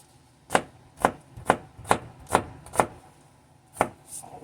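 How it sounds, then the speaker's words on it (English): A knife chops salad ingredients on a cutting board with about eight crisp, evenly spaced knocks. A brief pause comes before the last couple of cuts, close and clear with no talking. "So we're just going to chop up"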